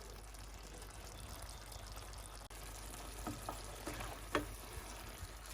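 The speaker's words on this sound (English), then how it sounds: "let it simmer about another 4 minutes or something, or 5 minutes" Pita pizza sauce simmering in a pan gives a quiet, steady bubbling hiss with faint pops and a few slightly louder crackles near the end, heard alone.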